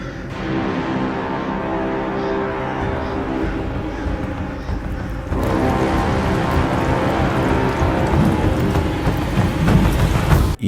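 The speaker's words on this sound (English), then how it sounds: "Bro literally turned the sky red and made it rain blood." Blood rain falling during a mid-fight cutscene in the video game Black Myth: Wukong, a steady dense downpour hiss that swells louder partway through, continuous and close.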